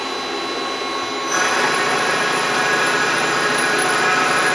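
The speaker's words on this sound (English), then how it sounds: "this is the main spindle and guide bushing turning at 1500 RPM" A Star SW7R Swiss-type lathe's main spindle and guide bushing run a program at 1500 RPM, a steady machine hiss and whine that jumps louder after a soft start and holds evenly, with no talking.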